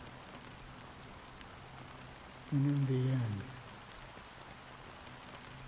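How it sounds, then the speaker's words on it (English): Steady soft rain falls in Honkai Star Rail, a faint continuous hiss throughout, while a voice speaks briefly in the middle. "It rains too much here."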